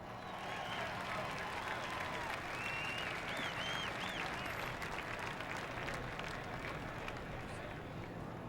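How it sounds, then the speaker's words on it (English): A crowd at Talladega cheers after Ron Hornaday's truck flips, a broad and distant roar of fans that holds steady throughout, with a voice talking over it. "Listen to the fans."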